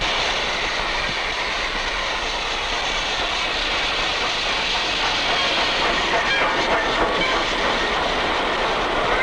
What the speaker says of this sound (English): Hey, come on, here's the train!